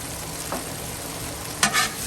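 Philly cheesesteak meat fries on a Blackstone griddle, a steady low sizzle with a couple of brief scraping stirs near the end.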